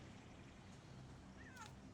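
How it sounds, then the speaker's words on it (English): A cat gives one brief rising meow near the end, faint and distant beneath steady background noise during a Company of Heroes 3 game commentary. "before being rudely interrupted by a cat"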